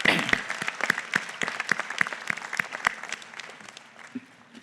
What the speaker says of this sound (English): Please join me in a round of applause for our faculty.